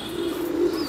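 A pigeon gives a low, steady coo at close range on a rooftop among breeds such as golden pigeons, one sustained call with faint chirps above it and no talking.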